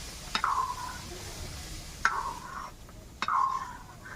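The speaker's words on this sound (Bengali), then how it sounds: "দিয়ে আর একটু ভালো করে নাড়াচাড়া করে নেব।" Three soft scraping strokes of a spoon stirring payesh, a rice pudding, in a pot, each a brief swish spaced a second or two apart over a quiet background.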